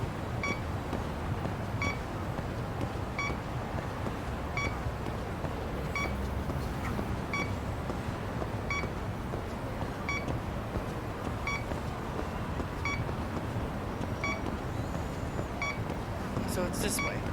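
Regular electronic beeps from the video game Lost Judgment repeat roughly every one and a half seconds, faint but steady under continuous game background noise.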